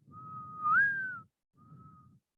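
A person whistles outward to imitate a mourning dove's call: a sustained clear note that swells and bends upward in the middle, then a shorter, flatter second note after a brief pause, close and alone.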